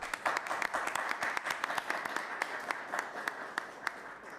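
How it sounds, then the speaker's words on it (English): Applause for a professor at a panel discussion on Bosnia policy, fairly faint with distinct individual claps standing out from a thin crowd, as if from a modest audience. "Please, a round of applause for Professor Serwer."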